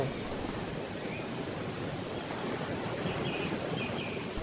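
Soft, continuous surf washes along the Devgad beach seashore near the fort, a steady distant hiss of waves with faint bird calls now and then, no voices.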